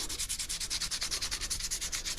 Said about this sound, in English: Just take a Dremel and just bounce it up and down on the handle.